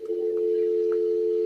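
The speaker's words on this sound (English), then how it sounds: "It's the answering machine." A telephone answering machine gives a single steady electronic tone that holds at an even level the whole time, close and clear, with no talking over it.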